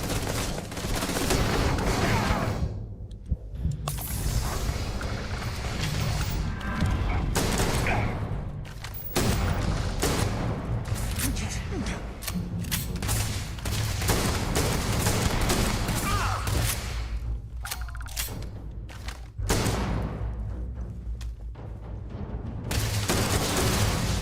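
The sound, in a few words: gunfire from a weird gun in the video game Starfield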